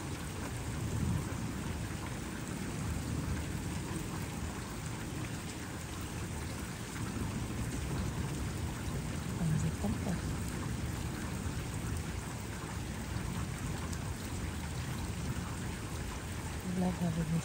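Steady heavy rain pours down outside a city apartment building, with rolling thunder rumbling underneath, a dense constant wash of noise throughout.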